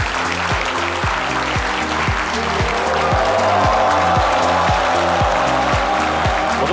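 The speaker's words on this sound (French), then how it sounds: "Déroulons-lui un tapis rouge d'applaudissements" A crowd claps in welcome for a minister at a French event, the applause loud and continuous over a pounding rhythmic music beat with strong regular low thumps, all holding steady to the end.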